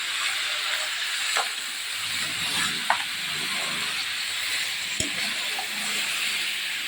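Chicken sambar ingredients cook in hot oil, giving a continuous close hiss and steady sizzle with a few faint clinks. The level stays even throughout, and no talk is present.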